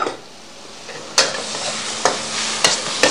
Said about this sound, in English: stir fry it again